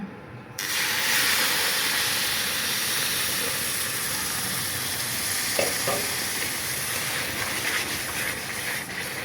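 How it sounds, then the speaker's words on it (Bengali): Milk hits hot roasted semolina in a pan with a sudden loud, sustained sizzle and steamy hiss that holds steady and close throughout. "সুজি ভাজা হয়ে গেছে গিয়ে আমি এখন দুধ দিমু"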